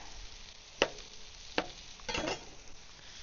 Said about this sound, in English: now we're just going to saute these guys up